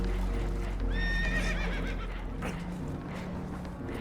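A spooked horse whinnies in Red Dead Redemption 2 aboard a holed boat taking on water: one loud, quavering neigh rises and wavers over a constant low rumble, followed by faint hoof clatter.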